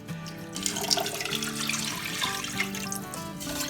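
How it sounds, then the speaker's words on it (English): Water poured into a pot of condensed cream of chicken soup for chicken noodle soup, a steady splashing stream running throughout at moderate level. "Pour in 2 cups of water"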